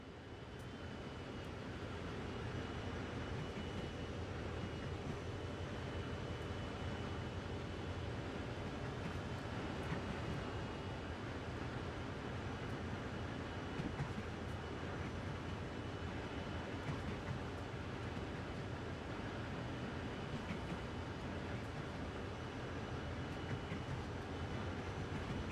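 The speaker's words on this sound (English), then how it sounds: "Have a play with moving the camera around while the train is coasting along." A train coasts along in the Train Sim World video game, giving a steady, continuous low rumble and hum of the locomotive and rolling stock, unbroken and with no voices.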